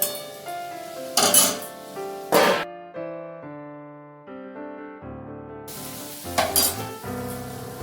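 Chow mein ingredients sizzle in a pan at a steady hiss while several loud clatters of pots and utensils land at the start and end, and a stretch of tonal ringing fills the middle.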